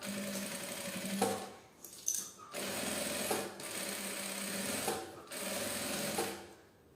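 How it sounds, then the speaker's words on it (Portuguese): Sewing machine stitching a large tote bag with a presser foot, close rapid mechanical whirring in several runs broken by short pauses and small clicks. "a gente costura com um pezinho de máquina"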